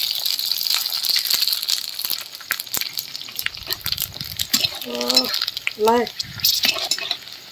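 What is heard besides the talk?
fuchka puris frying in hot oil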